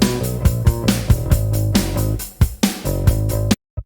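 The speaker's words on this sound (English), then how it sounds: "So drums and bass sound like this." Drums and bass from a production mix, punchy kicks and snare hits over a steady bass line, loud and upfront, cutting off abruptly to silence at the end.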